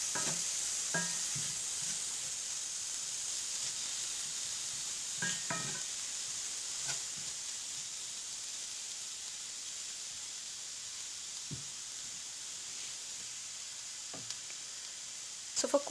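Soft, continuous sizzle of spinach and mushroom curry cooking in a pan, with occasional scattered clinks and scrapes of a spoon against the pan.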